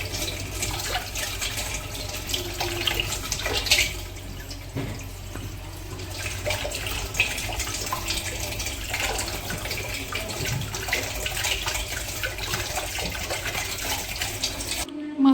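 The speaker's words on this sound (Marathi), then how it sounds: "मस्त थंड पाण्याने आता धुवून घेतलेत." Wild mushrooms being washed under cold running water, a steady stream splashing and gurgling in a sink with handling noises, fairly close, with faint voices in the background.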